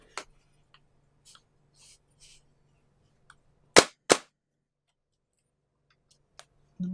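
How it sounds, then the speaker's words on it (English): A DSG airsoft rifle being cleared: two sharp, loud cracks in quick succession, well separated from scattered faint clicks and handling noises on a quiet desk. "let me quickly clear the rifle just to make sure"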